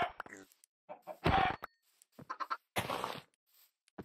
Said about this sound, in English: we've got chickens and everything. Oh, they're baby chickens.